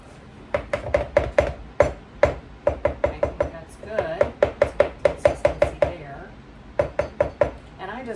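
A spoon scrapes and knocks against a small dollar store mixing bowl while flour and apples are stirred together for Ozark pudding, a quick irregular series of close clacks with a short pause midway.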